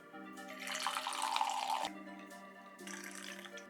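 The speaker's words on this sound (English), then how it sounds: "pour it and enjoy." French press coffee pours in a steady stream for a couple of seconds, stops briefly, then pours again, close and fairly quiet.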